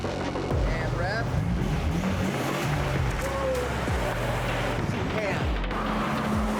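A new Nissan Z's engine revs during a driving overtake, a loud continuous motor drone with rising and falling pitch sweeps close by.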